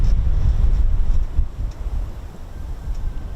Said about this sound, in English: That is quite windy, Ted.